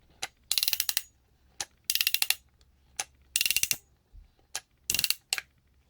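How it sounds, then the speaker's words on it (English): Ratcheting crescent wrench clicking close up in quick rattling bursts of several sharp clicks each, repeated about six times with short silent gaps between them. "It is a ratcheting crescent wrench."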